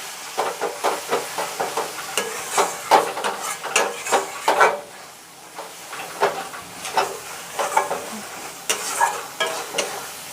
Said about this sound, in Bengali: আবারও আদা রসুনের সঙ্গে ভালোভাবে কষাবো।